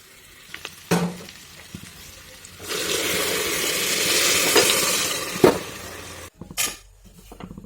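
Water poured onto fried rice and lentils for khichuri sets off a loud, sustained burst of sizzling lasting several seconds, with stirring scrapes and clinks of a utensil before and after.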